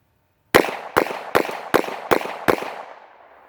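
Six sharp shots from an Astra 4-inch .38 Special revolver fired from the hip at close range, evenly spaced about half a second apart, each loud crack ringing briefly before the next, with no talking.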